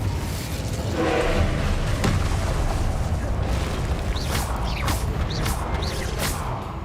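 An explosive Confringo spell blast in the Hogwarts Legacy video game sounds as a rumbling boom with whooshing, followed by several sharp bursting pops over a continuous low roar of game noise.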